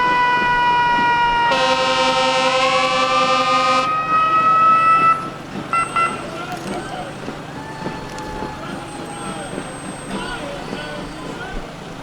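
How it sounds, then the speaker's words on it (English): Woburn Fire Department fire trucks roll through a Halloween parade, a loud siren wail rising and sweeping for a few seconds over crowd noise, then fading into a steady street hubbub with more distant horn toots. "I see some fire trucks coming down the road after the Local 25"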